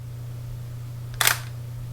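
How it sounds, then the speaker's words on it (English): A Sony ZV-E10 camera fires its shutter once, a short crisp click against a quiet background hum, with no voices. "And then it takes a picture."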